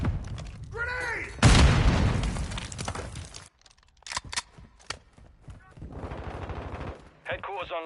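A grenade blast and bursts of gunfire in Call of Duty MW2, a loud explosion preceded by a short shout, followed by scattered sharp shots and rattling automatic fire with quiet gaps between.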